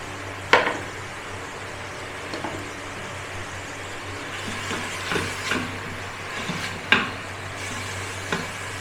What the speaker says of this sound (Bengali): পেঁয়াজটা এখন ভাজছি।